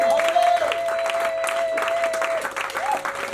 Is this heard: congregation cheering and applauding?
yes